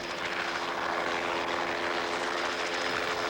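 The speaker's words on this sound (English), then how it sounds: "helicopter suddenly appeared out of the smoke, bombing the forest with burning gasoline gel." Helicopter flying low over a burning forest in Newfoundland, a steady, loud rotor and engine drone throughout with no pause, smoke-filled air and no voices.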